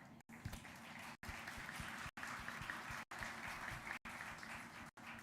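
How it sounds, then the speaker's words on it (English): Audience at a live youth security event applauds steadily in continuous broadband clapping, repeatedly cut by brief dropouts of silence. "Can we hear a clap?"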